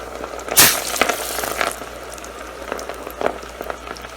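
French fries dropped into oil that is far too hot, crackling and bubbling in a dense, continuous sizzle with a loud burst near the start and smaller pops after.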